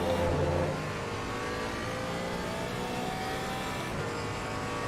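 A Porsche race car in Assetto Corsa Competizione at Imola drones steadily at high revs, a loud engine note that eases slightly after the opening second and holds on, with no one speaking.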